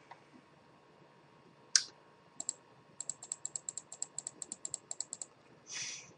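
A computer mouse clicks close and quiet, first a single click, then a quick, fairly regular run of about a dozen crisp clicks, against a faint hum in a quiet room.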